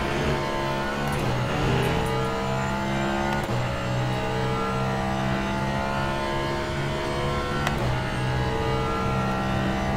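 A race car engine in the sim racing game Le Mans Ultimate drones loud and steady, its pitch rising and dropping with quick gear shifts, with no one talking.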